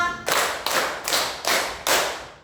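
Five crisp, evenly spaced unison claps from a class playing a counting clap game, loud and close, each with a short room tail, after a brief voice at the start.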